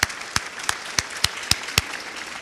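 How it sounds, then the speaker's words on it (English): Scattered applause from a banquet audience at an Educator of the Year dinner: about seven sharp, separate hand claps at irregular intervals, fairly quiet and with no talking. "I would like to once again give everyone who is here tonight a round of applause."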